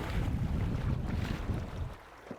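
Boat with a Torqeedo Travel XP electric outboard motor on open water, slowing to a stop, heard as a steady wash of water and wind noise that eases off toward the end, with no talking.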